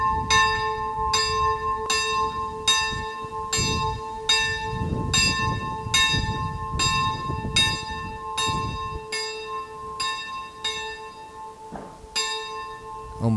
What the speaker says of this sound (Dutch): Om 4:05 luiden alle kerkklokken.